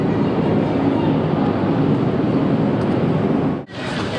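Steady rumbling roar of a nearly empty passenger train on the way to Disneyland Paris, continuous broadband clatter with a brief dip near the end as the car passes through.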